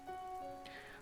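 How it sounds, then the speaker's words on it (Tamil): Rain falling at night by a farmhouse as a story sound effect, a brief steady patter with a faint tonal layer, soft and alone without speech. "நைட் ஆச்சு, மழை ஒன்றும் நிற்கவே இல்லை."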